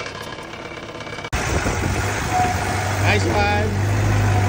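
A Honda B-series car engine, mid-swap in a garage, catches abruptly and settles into a loud, steady idle with a faint knock. People talk and exclaim over it.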